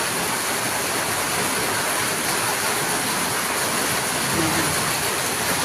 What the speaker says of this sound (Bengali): কীরকম বৃষ্টি হচ্ছে দেখুন একটু।